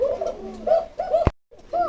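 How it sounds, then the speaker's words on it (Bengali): Coca (Koka) pigeons coo close by in repeated throaty, rolling calls, broken by one sharp knock and a brief silence before the cooing starts again. "এই যে ডাকতেছে কুকা"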